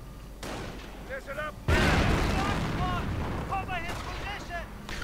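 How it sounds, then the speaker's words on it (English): Gunfire and heavy booms from a WWII strategy game battle, including a sniper rifle shot, with a loud blast near the middle over continuous battle noise and a commentator talking throughout. "sniper misses, otherwise that would have been an excellent shot"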